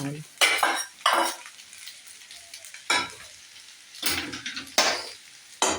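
Fried sabudana stirred with curry leaves in a pan, with loud, irregular scraping bursts of a spoon against metal over a soft sizzle.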